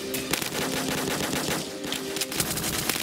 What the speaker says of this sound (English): I have a minigun too, though.